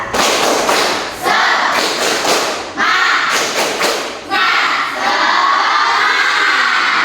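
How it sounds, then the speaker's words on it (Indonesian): A classroom of Indonesian schoolchildren doing a rhythmic spirit clap cheer, loud bursts of unison clapping and shouting in repeated phrases, close and energetic, ending in sustained chanting. "Boleh ibu minta kalian tepuk semangat?"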